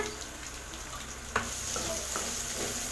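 Two chopped large onions sautéing in oil over a medium flame in a pan used for a green turkey berry tamarind curry, a steady sizzle with a few sharp stirring scrapes and clicks, no voices.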